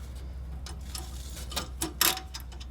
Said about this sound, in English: now you're going to tighten the hardware with a 7/16 wrench and a 5/32 Allen